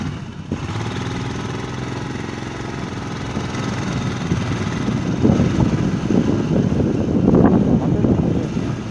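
A motorbike engine drones steadily while riding a misty mountain road from Nathu La toward Gangtok, a continuous close rumble with wind buffeting the microphone and slight revving swells toward the end.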